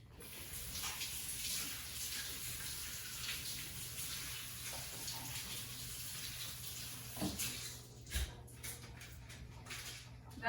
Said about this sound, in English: And then I'll run it under the water one more time.